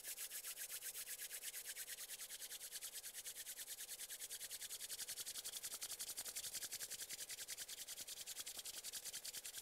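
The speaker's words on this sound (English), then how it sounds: "And then place both hands together in front of your heart. And then gently start to rub your hands." Two hands rub together briskly and steadily during a gentle yin yoga session, a close, even swishing friction that holds a constant rhythm for about ten seconds without pause or speech.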